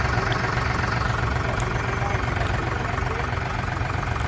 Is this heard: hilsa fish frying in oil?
no